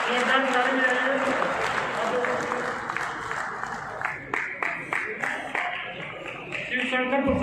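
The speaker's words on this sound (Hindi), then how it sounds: "जोरदार ताली बजाइए।" People at a railway zonal meeting clap together in applause, mixed with an announcer's voice over a PA. The clapping grows into sharper, more distinct claps toward the end.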